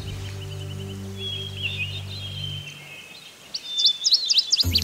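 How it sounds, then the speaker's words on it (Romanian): Birds sing outdoors in a quiet setting, with high chirps and short trills growing louder and more rapid near the end over a low steady hum that drops away. "Ce frumos, doar păsările se aud."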